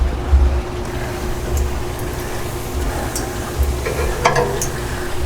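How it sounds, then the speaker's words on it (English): Steady sizzling hiss of chicken on a hot grill right over the coals, continuous and close, with a few faint clinks and scrapes. "I hear it sizzling already"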